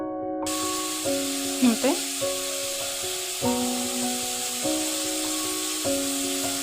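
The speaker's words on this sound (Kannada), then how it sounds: "ಅದಕ್ಕೆ ಸ್ವಲ್ಪ ಆಯಿಲ್ ಹಾಕ್ಕೊತಾ ಇದ್ದೀನಿ. ಸಾಸಿವೆ ಮತ್ತು ಜೀರಿಗೆ ಹಾಕ್ಕೊತಾ ಇದ್ದೀನಿ." Mustard seeds and cumin sizzle steadily in hot oil in a pan while girmit is being made, with background music and a brief voice throughout.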